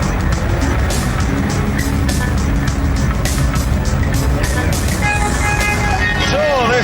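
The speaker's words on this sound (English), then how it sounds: "The engine is actually smaller, just 2 litres, but it has a turbocharger, and that means 200 brake horsepower." Vauxhall VX220 with a turbocharged 2-litre engine driving, its loud continuous engine and road roar running throughout while someone talks over it.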